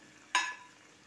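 A brief, sharp sizzle bursts out as eggs drop into a pot of simmering mustard and poppy seed sauce, then fades quickly into quiet bubbling.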